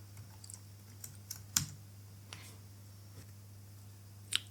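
Sparse, faint keystrokes on a computer keyboard while writing Go code for a REST API, scattered irregular taps over a low steady hum.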